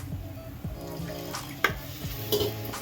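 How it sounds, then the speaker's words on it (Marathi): Water splashes into a hot pan of frying masala and sizzles, with scattered clinks of a utensil stirring in a quiet kitchen. "त्याच्यात थोडंसं पाणी टाकायचं"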